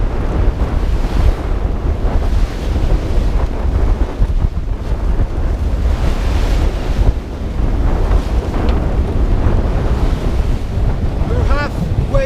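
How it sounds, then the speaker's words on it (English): Strong wind near 30 knots buffets the microphone while ocean waves surge and crash around a sailboat on a North Atlantic crossing, a continuous loud roar throughout. "The wind is picking up, almost 30 knots"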